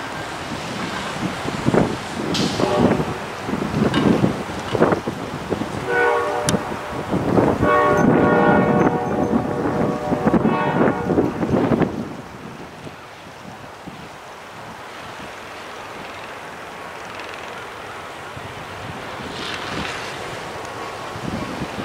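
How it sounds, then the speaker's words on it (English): Cold wind gusts hard and roars across the microphone beside a railway tower in Utica, New York, buffeting loudly at first, then easing to a steadier, quieter rush. "it is cold, 20 degrees and windy"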